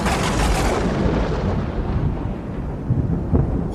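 Deep, continuous rumbling thunder fills the whole stretch, loud and close, with a heavier crack-like swell near the end.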